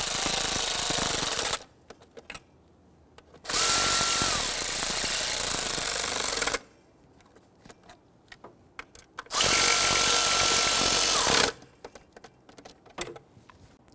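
Ignition coil bolts on a 2008-2013 Infiniti G37 3.7L V6 are snugged down in a crisscross pattern with a power tool, giving two loud, sustained whirring bursts of about two to three seconds each, separated by quiet pauses with faint clicks.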